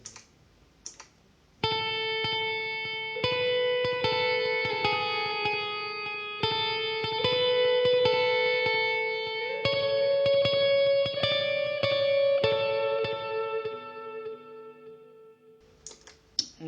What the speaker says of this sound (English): that's kind of the Marshall Plexi sound